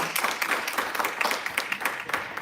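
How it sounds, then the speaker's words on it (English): A short burst of audience applause at a talk, many hands clapping in a fairly close, uneven patter that holds at moderate loudness throughout. "Can we please give a round of applause to that one?"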